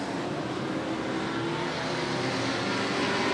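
At Seekonk Speedway, a short-track race car gets sideways through a turn while engines roar continuously and steadily, a fairly distant, unbroken blare of racing motors with no talk.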